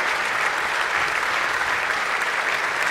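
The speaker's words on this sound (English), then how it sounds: "They're clapping. Loud and clear." A crowd claps steadily and loudly, dense continuous applause filling the whole moment without pause.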